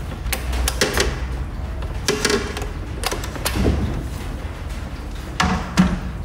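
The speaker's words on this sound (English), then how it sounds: "Step one is to remove the toilet seat." A plastic toilet seat is taken off its hinges, giving a series of close knocks, clacks and rattling thuds in irregular bursts, loud and near, with no voices.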